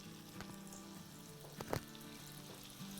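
Chicken kababs coated with crushed samosa crunch dropped into hot oil, giving a faint steady sizzle and bubbling with a couple of brief louder crackles.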